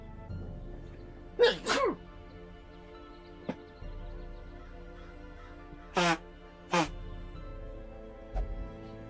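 A person sneezes several times, sharp bursts close to the microphone spread across the stretch, between quiet gaps with faint background sound.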